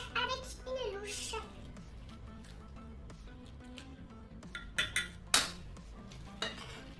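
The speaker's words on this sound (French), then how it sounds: "Et maintenant, on va verser les macaronis. Puisque c'est trop lourd, moi, je vais faire avec une louche." Macaroni is ladled into a dish with metal utensils, giving scraping and clinking sounds, a few sharper clanks near the end, over a background of soft voices, including a child's.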